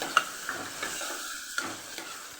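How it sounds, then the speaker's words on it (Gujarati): Bottle gourd sautéing with garlic chutney in a pan: a quiet, soft sizzle under light scraping stirs and a few small clicks of the spoon, close and steady with no talk. "લસણવાળી ચટણી સાથે આપણે દૂધીને સરસ સાતડી લેવાની છે"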